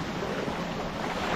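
Strong rushing water pours steadily and loudly close by, a dense continuous roar with no pauses, and no voices over it.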